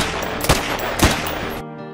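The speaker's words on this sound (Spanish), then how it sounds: "Disparé 3 tiros seguidos que no le dieron a nada" Gunshots in an audio drama, three sharp loud cracks in quick succession over a dense rumbling background, which then drops away abruptly near the end.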